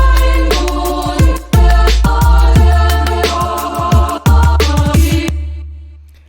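Punchy layered drum beat with kicks and snappy hits over a sustained melodic main sample, loud and driving, with a brief gap mid-way and a stop near the end leaving a fading tail.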